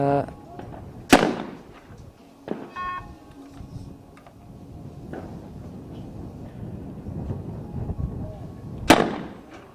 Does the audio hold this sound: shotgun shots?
yes